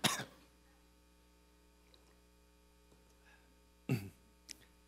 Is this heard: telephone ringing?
no